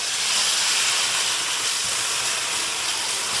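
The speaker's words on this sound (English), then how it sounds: "Cooking our tomatoes with the tadka for 1 minute." Tomato puree sizzles in hot tadka oil on high heat, a steady loud broadband hiss that fills the whole stretch without pause.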